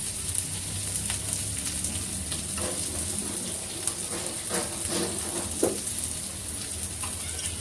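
Fresh and dried coconut frying in a pan, giving a steady close sizzle and crackle with small pops across the whole stretch and no talk.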